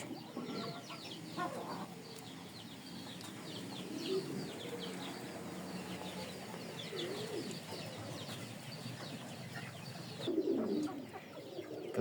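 Pigeons cooing and fluttering close by, soft throaty coos and a few clucking calls repeating through steady outdoor background noise, with a louder burst of cooing near the end.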